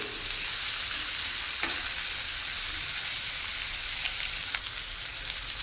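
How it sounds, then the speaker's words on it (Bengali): Spice paste frying in a pan for a milk-free shukto, a steady soft sizzle with occasional scrapes of stirring, alone with no talk. "দেখুন মশলা কেমন সুন্দর করে ভাজা হয়ে গেছে"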